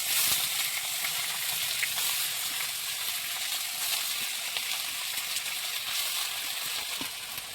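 Shredded cabbage hits hot oil seasoned with panch phoron, giving a steady, close sizzle and crackle of frying that holds evenly throughout with no talk over it.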